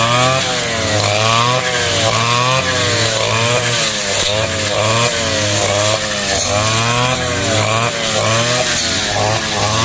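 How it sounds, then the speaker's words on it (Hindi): Motorized grass cutting machine running across a large campus lawn, a loud continuous engine drone with rhythmic rising and falling pitch as it works, close by and steady throughout with no talk. "तो इस तरीके से ये जो है पूरा कैंपस में ग्रास कटिंग करते हैं मशीन के थ्रू।"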